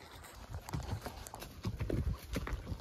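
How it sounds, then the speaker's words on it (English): Horses walking outdoors on a trail trip, hooves clip-clopping in an uneven close rhythm throughout, with faint rustling behind them. "So we owned the horses. And we got Kenzie on this one. Got me on this one."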